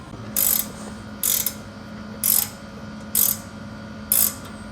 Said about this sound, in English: So much easier to get back on this thing with the ratcheting wrench.